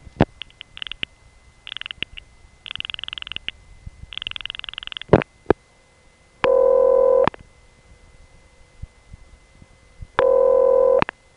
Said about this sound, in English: the ring was always very short, half the length of a normal ring, and it repeated more frequently